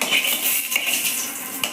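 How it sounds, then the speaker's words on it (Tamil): A metal ladle stirs tomato chutney in a pan, giving steady scraping and stirring with a few sharp clinks against the metal, close and fairly loud, with no talk. "ஏட்டா கிண்டி விடு."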